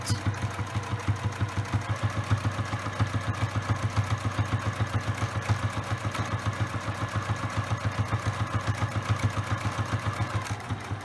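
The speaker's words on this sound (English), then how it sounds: "back stitch and continue to sew straight." A sewing machine stitches a tote bag's fabric lining in a steady, rapid, even rhythm of needle strokes that runs without pause throughout, close and moderately loud, with no talking.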